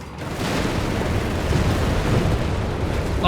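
Artillery fire in Company of Heroes 3 makes a dense, loud, rumbling barrage of booms and bursts that swells in after a brief quiet start and stays continuous to the end.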